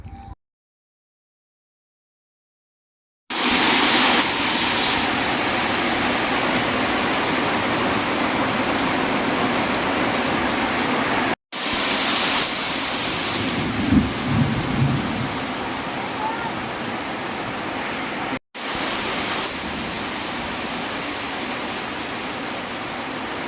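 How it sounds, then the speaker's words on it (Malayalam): Heavy rain pouring steadily on a rainy day, a loud dense roar that starts after a few seconds of silence and continues with brief cuts, with faint thunder-like rumbles low underneath. "അയ്യോ എന്നാ മഴയാണോ"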